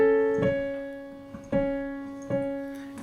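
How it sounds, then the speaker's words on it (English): Piano playing a repeated chord from Chopin's Prelude in A, measure 7: three soft, evenly spaced strikes of the same chord, each ringing and decaying before the next, close and gentle with no voice. "you play that exact same chord again with the same rhythmic pattern to start in measure 7"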